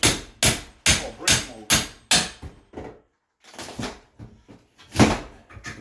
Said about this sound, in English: So we're taking out the trimming, and Lew's taking out the brick mold.